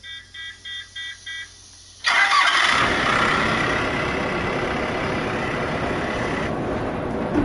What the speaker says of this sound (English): I love the sound of the engine when you start it